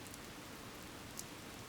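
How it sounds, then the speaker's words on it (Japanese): Light rain falls steadily in a soft, faint, even hiss of drops, with no other sound over it. "正午を過ぎて雨は小降りになっていた"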